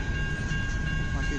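CN freight train with coal cars rolling past in Kimball Township, a loud steady rumble with metallic wheel noise and a faint high whine, speeding up close by.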